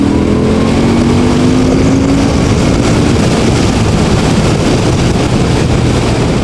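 A Victory Octane motorcycle engine revs while riding, its pitch climbing steadily through the gear before settling into a loud, continuous drone with heavy wind rumble.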